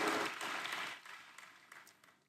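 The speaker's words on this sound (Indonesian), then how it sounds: "Boleh kasih tepuk tangan buat worship leader, choir, dan para musicians" Applause from a church congregation, loudest at the start and then thinning out into scattered claps as it fades.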